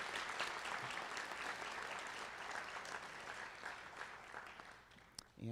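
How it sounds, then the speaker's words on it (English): Attendees at a school board of education meeting applaud recognized elementary school teachers, a fairly quiet, steady patter of many hands that tapers off near the end, with a brief bump of handling noise. "So if we could all give them a round of applause,"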